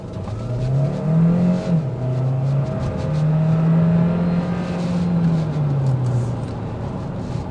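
A 2024 Hyundai Tucson Hybrid N-Line accelerates on a test drive, its engine note climbing and holding a steady droning hum with a brief dip as it shifts, close and prominent inside the cabin with no talking.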